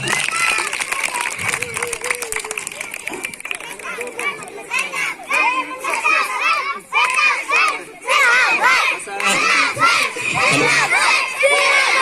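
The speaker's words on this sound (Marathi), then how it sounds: "त्यांच्यासाठी जोरदार टाळ्या एकदा" A loud crowd of schoolchildren at a school quiz competition shouting, cheering and applauding together, sustained and energetic, with excited voices rising and falling throughout.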